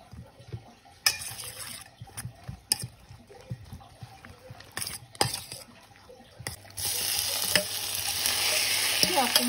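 Bread pieces for French toast frying in a pan, with intermittent stirring clatter and spatula scrapes, then a loud continuous sizzle building up near the end.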